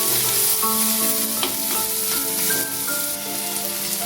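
Potatoes and onions fry loudly and steadily in a pan for bombay duck fish, a constant close sizzle with occasional stirring scrapes and no talk.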